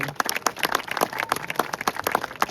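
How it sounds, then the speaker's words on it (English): Scattered hand claps from a small outdoor audience at a mountain bird show, quick uneven claps spread evenly through the moment without any voices. "Let's give him a round of applause anyway"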